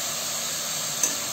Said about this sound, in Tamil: இது நல்லா வதங்கட்டும். இது ஒரு 2 மினிட்ஸ் வதங்கட்டும்.